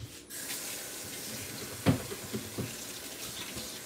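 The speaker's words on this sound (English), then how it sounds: "So, I'm going to wash my hands again." Tap water runs steadily into a kitchen sink as hands are washed while cooking a shrimp and broccoli stir fry, a soft even hiss broken by a brief clatter partway through.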